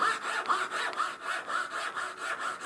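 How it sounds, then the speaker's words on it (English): Japanese pull saw cutting a wooden dovetail joint, steady rhythmic back-and-forth rasping strokes, close and clear with no talking. "I cut most of mine with a dovetail, with a Jap saw"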